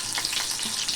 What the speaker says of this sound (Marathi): थोडीशी मिरची, कढीपत्ता,